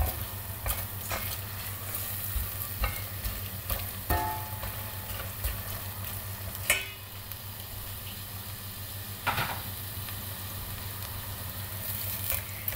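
Washed green lentils go into a pan of frying onions and get stirred, a steady sizzle with scraping spoon clatters and occasional knocks against the pot, close and fairly quiet.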